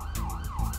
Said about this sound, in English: Oh, our siren's in sync for me.